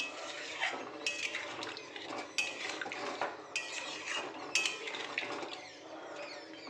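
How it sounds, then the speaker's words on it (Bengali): A metal spoon stirs shankar fish curry in a pan, scraping and clinking against the sides in quick, irregular strokes; the sounds are close but fairly quiet, with nobody speaking. "একটু নেড়ে দিচ্ছি।"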